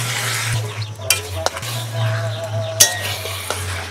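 Ground cumin, coriander, Kashmiri and red chilli powders, tomato, capsicum and green chilli fry in a pan with a steady close sizzle, punctuated by a few sharp clinks of a stirring spoon.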